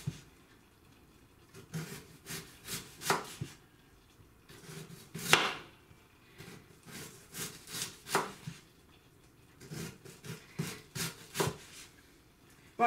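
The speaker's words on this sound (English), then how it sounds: "watch me chopping more cabbage" A knife chops through cabbage on a board for coleslaw, with quick bursts of crisp cuts broken by short pauses and one longer scraping stroke, near and fairly quiet with no talking.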